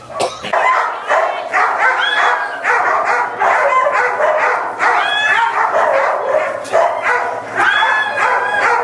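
Sled dogs in Alaska bark, yip and whine eagerly in a near, continuous chorus, with excited high-pitched yelps rising repeatedly above the clamor.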